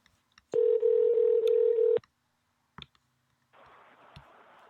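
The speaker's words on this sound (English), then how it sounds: "Ringing in Den Bishop." A single long steady phone tone, then a couple of clicks and a burst of line noise as a call to a guest connects, quiet and with no talk.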